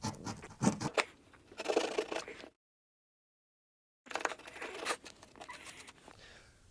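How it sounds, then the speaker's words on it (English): A drywall saw rasps back and forth through drywall above a baseboard molding, with faint scratchy strokes in two bursts split by a moment of silence. "What you want to do with your drywall saw is cut down from the top of the molding and go ahead and cut yourself an opening."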